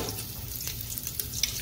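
Chopped green chillies hiss and sizzle in hot oil in a pan, a steady, even frying crackle that carries the whole way through with no voices.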